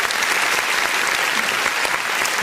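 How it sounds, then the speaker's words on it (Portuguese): Church congregation applauding during a worship service, dense continuous clapping from many hands, loud and even throughout. "Vamos aplaudir o nome do Senhor Jesus."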